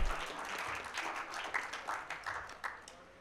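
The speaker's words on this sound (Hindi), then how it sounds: "ताली बजा लें" Audience applause at a Jaun Elia poetry recital in Ishq Abad, a dense patter of clapping that swells and fades in uneven waves across a few seconds, fairly faint and without talk.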